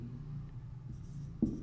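A marker or chalk scratches briefly and faintly across a board during a Hindi-language classroom lecture on citizenship, a soft rubbing stroke over low room hum, with no talking.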